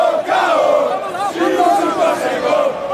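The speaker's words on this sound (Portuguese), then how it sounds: "A torcida invadiu a quadra" Basketball fans who stormed the court in Bauru cheer and chant together in a dense, loud crowd roar, celebrating a series-turning playoff win over Pinheiros, with voices rising and falling continuously.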